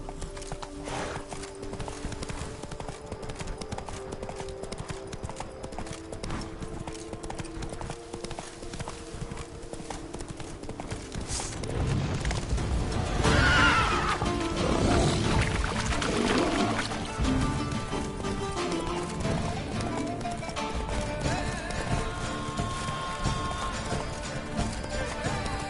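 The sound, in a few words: horse Roach galloping and whinnying in a video game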